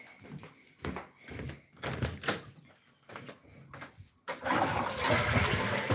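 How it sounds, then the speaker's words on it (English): A toilet flushing on a banana farm in Thailand, preceded by several knocks and thumps, then a steady rush of water that begins abruptly and continues loudly to the end. "Sorry, the toilets probably just need a flush."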